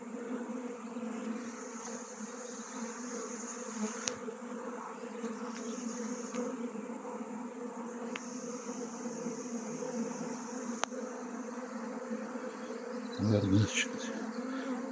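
A mass of honey bees drones steadily at an apiary where several hives have swarmed, a dense continuous buzz with a brief louder burst near the end.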